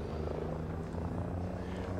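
A drone hovers in a video game near a helipad, its steady droning buzz filling the clip with a constant low hum and no talk over it.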